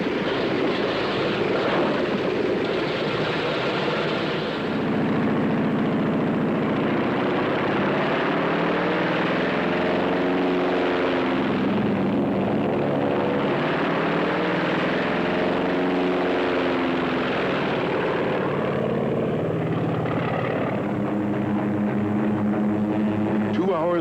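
Propeller engines of World War II carrier planes drone steadily throughout, a loud continuous roar with rising and falling tones as several aircraft run up on deck, with commentary spoken over them.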